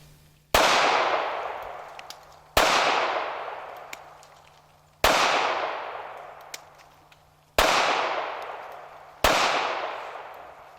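A Ruger LCP II compact pistol fires five sharp, loud shots spaced roughly two seconds apart, each followed by a long ringing decay outdoors.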